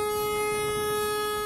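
A sustained, loud multi-tone train horn from the Indian Train Simulator video game blares steadily and evenly for its full length, alone without speech.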